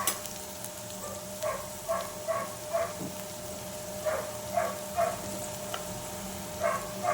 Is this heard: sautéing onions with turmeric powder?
yes